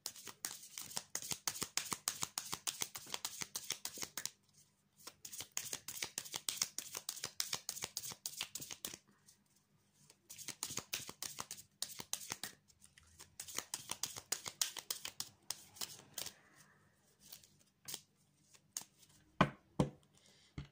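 Tarot de Marseille cards are shuffled in repeated bursts of crisp riffling and slapping, each run lasting a few seconds and separated by short pauses, close and clear with no talking.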